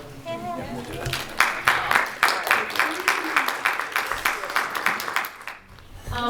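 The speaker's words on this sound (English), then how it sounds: "Can we clap for our lovely moderators?" Audience at a cancel culture debate clapping for the moderators, a run of sharp claps rising and thinning over several seconds, with a speaking voice mixed in.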